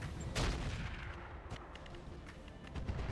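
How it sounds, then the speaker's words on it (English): Artillery fire in the mech game RogueTech lands in a few heavy booming bursts, one near the start and more toward the end, with rumbling echoes between them and no voices. "we are going to drop artillery on this Templar"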